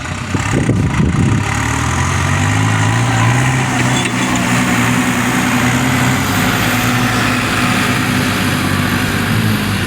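A New Holland tractor's diesel engine runs steadily close by, with a low, continuous throbbing rumble and no speech throughout.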